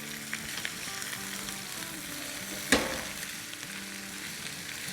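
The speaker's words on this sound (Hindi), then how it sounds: "बस 1 मिनट इससे हम सौटे करेंगे।" Fried rice seasoned with black pepper sautés in a hot pan, a steady close sizzle with light stirring scrapes and one sharp clack of a utensil partway through, no voices.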